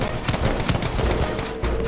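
Rapid fire from a defensive tower in a Roblox tower defense game, a dense run of quick game-weapon shots crackling steadily for under two seconds, loud and continuous with no talk.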